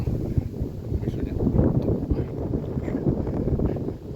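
Steady low rumbling wind buffeting the microphone, loud and continuous throughout, with no clear voices, on a morning by Lake Telbin in Kyiv, where lilies are blooming.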